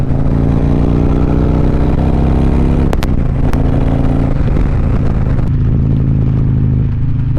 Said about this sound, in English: Gotta hit the throttle